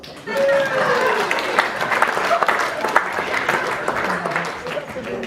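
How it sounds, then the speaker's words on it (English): Wedding guests applaud loudly and steadily throughout a wedding speech, a dense burst of clapping with voices talking and calling out over it. "There you go. Round of applause."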